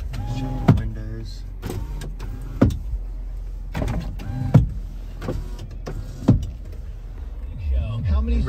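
Power windows of a 2012 Jeep Wrangler Unlimited Sahara whir up and down in several short motor runs, each ending in a clunk, heard close inside the cabin with a voice speaking at times.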